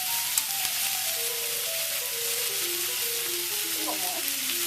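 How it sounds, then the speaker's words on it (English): Onions and garlic fry in a pan with a steady, close sizzle that fills the whole stretch, while a faint melodic tone plays underneath. "Are we browning these onions?"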